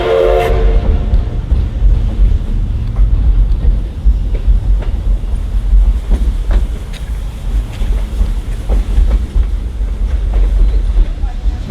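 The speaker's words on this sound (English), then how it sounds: "So, all told, above 20 times you're going to hear that whistle blow." Steam locomotive No. 110, built in 1880, with heavy rumbling rail noise throughout and a short whistle-like blast near the start, followed by rhythmic clanking and knocks from the moving train.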